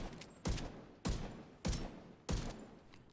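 Diamondback exotic rifle firing in The Division 2, four sharp, loud shots spaced roughly half a second apart, each with a short echoing tail and no voices.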